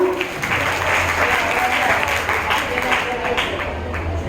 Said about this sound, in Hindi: इन्होंने बहुत ही प्रस्तुति के लिए 2 तालियां